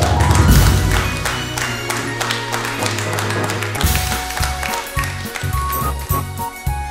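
An audience at a poetry recital claps for a poet. The applause is loud and dense at first, then thins into scattered, uneven claps and taps.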